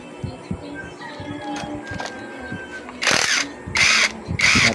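Impact wrench removing the flywheel from a Honda GX35 grass cutter engine, heard as three loud, hard bursts of rattling in the second half, following quieter workshop clatter and small metal knocks.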